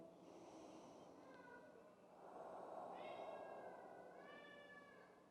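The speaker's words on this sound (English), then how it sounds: "That's my cat." A cat gives several soft, drawn-out meows in a row, faint against a quiet room with low background noise.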